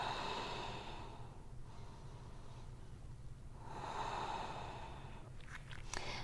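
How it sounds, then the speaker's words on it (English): Slow, deep breathing in a yoga forward fold, two long inhale-exhale cycles close and soft over a quiet room tone, no talking. "take 2 deep breaths"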